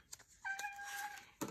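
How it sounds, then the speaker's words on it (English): A pet cat meows once indoors, a short tonal call that rises and holds for about a second, fairly faint and close, with a couple of soft clicks around it and no talking. "Here comes my cat."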